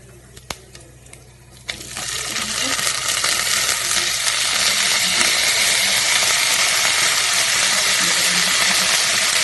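Pumpkin stalks and leaves hit hot oil in a pan, a few light taps giving way to a loud, steady sizzle and crackle of frying that fills the rest of the clip.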